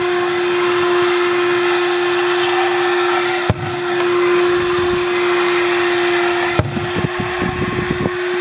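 A 12V car vacuum cleaner fitted with a crevice tool drones steadily at close range while it sucks dust and crumbs off a car floor mat, its motor pitch dipping briefly twice as the nozzle catches debris.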